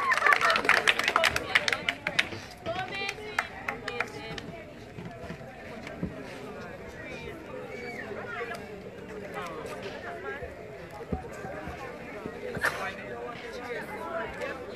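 Audience clapping at a spelling bee, a brief burst of scattered applause at the start that fades into room murmur and chatter.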